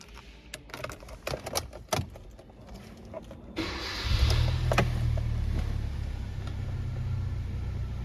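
A 2011 Hyundai i20 at a used-car dealership is started after some clicks and key rattles; the engine catches and settles into a steady low idle.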